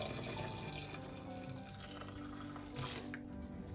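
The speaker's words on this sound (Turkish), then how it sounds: "Şimdi bir buçuk litre sıcak su ısıttım arkadaşlar. Onu da çorbama ekliyorum." Hot water, about one and a half litres, poured into a pot of tomato basil soup, giving a steady close splashing and trickling flow that runs unbroken through the whole stretch with no talk.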